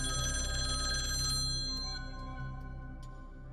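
A telephone rings with a steady electronic tone for a few seconds before fading, close and alone with no talk over it; the call is from a mother-in-law.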